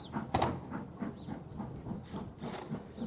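The Jacobite steam train chuffs rhythmically in the distance in Scotland with bursts of hissing steam, the repeated puffs rising and falling in loudness.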